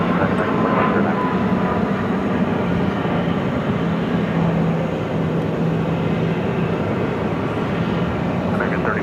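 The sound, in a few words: Boeing 737 airliner taking off at Phoenix airport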